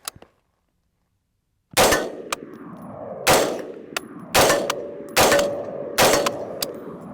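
Five loud, sharp rifle-style gunshots ring out at a target during a torture test of a Tacticon Predator V3 optic, spaced about a second apart after a quiet pause, each crack followed by a short metallic ring and echo.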